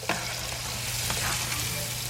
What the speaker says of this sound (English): Let's get that in. Saute that up a little bit,